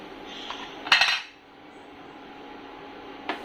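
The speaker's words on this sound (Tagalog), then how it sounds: "lagay ko na yung tolya" Raw clams tipped into a metal cooking pot for Bicol-style ginataang tulya, a bright clattering rattle of shells against metal, loud and brief, then a quieter lingering clink.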